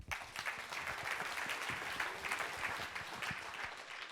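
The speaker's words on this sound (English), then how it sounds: "big round of applause for Pitch Johnson." A conference crowd at the 2014 Ukraine Tech Gem event applauds a keynote speaker, a sustained even wash of many hands clapping, heard from a moderate distance and fairly quiet.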